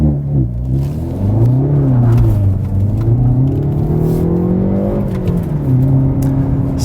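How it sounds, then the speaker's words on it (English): A 2019 Hyundai Veloster N accelerating hard in a low gear, its engine note climbing and falling through several steady revving sweeps, loud and close from inside the car with no talk. "I'm gonna kind of accelerate here to the left once that vehicle leaves."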